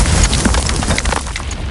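A Descendo spell impact in the video game Hogwarts Legacy, a loud booming crash with crackling debris that tails off over a second or so.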